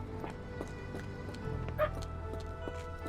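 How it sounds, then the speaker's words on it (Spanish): A dog in a Sherlock Holmes horror game yips and whimpers a few times over low ambient rumble, with one brief louder high yelp in the middle. "Ahí está el perrito que siempre me saluda."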